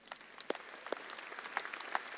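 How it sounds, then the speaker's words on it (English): Sparse clapping from a conference keynote audience in Sydney: a handful of distinct, spaced-out claps over a faint background murmur, fairly quiet and thin rather than a full ovation. "So please, round of applause for Informatica."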